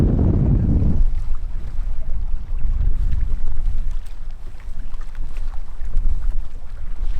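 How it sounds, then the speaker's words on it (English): Heavy wind buffets the microphone at a high mountain lake, loudest at the start, then continues as a constant low rumbling gust with a few swells. "It's pretty windy up here"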